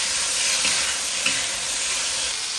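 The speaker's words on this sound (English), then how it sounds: "And then you toss the shrimp a couple of times." Shrimp for Kung Pao Shrimp stir-fry in a hot pan with a dense, continuous loud sizzle, and a couple of brief toss sounds rise slightly out of the frying, heard close without speech.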